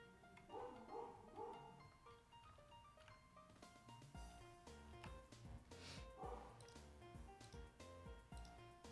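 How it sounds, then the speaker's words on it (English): A pet dog barks somewhere in a room during a Minecraft gameplay session, short yips and bow-wows mixed under steady game music and sound effects, fairly faint and intermittent rather than up front. "I'm sorry if you hear my dumbass dog. I don't know why he's barking."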